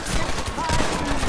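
Rapid, dense gunfire in Red Dead Redemption, including machine-gun bursts, fills the moment loud and continuous, mixed with busy overlapping game sounds.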